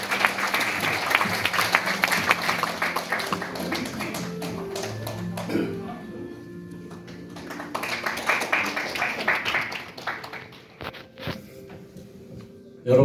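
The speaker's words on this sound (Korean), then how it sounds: "박수로 맞으시면 고맙겠습니다." An audience at a formal anniversary ceremony claps in sustained applause, a dense patter of many hands that swells, eases and swells again, with faint voices and background music underneath.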